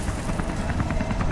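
Helicopter in the video game Beyond Two Souls, a loud close rotor chop pulsing rapidly and evenly over a dense engine roar.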